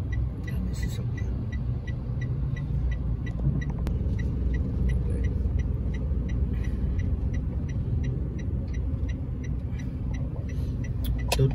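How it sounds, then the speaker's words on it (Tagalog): Road traffic with many vehicles, a continuous low rumble of engines and tyres close by, with a regular ticking like an indicator running through it and no talk. "Dami sasakyan."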